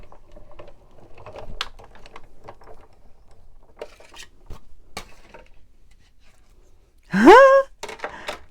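Thin paper cranked back through an embossing machine, giving a string of soft, irregular mechanical clicks and ticks, followed near the end by a brief louder rising squeak.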